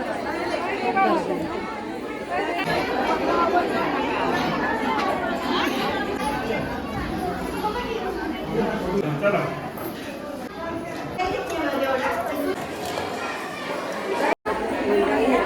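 Dense crowd chatter fills a long queue at a busy Ram temple, many voices overlapping steadily and close by throughout, with a brief cutout near the end.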